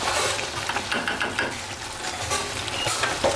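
Spice paste frying in a pan for a pumpkin and egg curry, a dense steady sizzle with brief scraping strokes of stirring, close and moderately loud, no talk.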